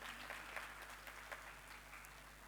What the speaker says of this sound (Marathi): एकदा जोरदार टाळ्यांचा कडकडाट होऊन जाऊ देत.